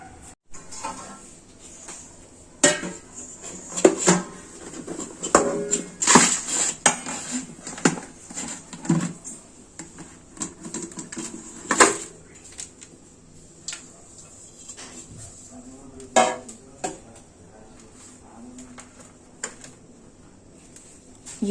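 A deep metal pan is turned over to release a slab of Mysore pak, giving scattered metallic clanks, knocks and clinks of the vessel against a kitchen surface, with a few louder taps among quieter handling noises.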